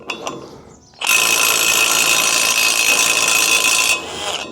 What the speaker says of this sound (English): the powerhouse that is the M18 half-inch with a 24mm socket